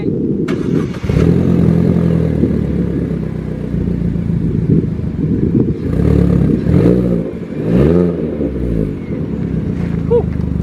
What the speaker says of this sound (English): What this is, it is a Cobra Sport exhaust, but it's a muffler.